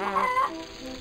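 A chicken in the Yono and the Celestial Elephants video game gives a short, bright, tonal cluck, heard alone and close over a soft game background.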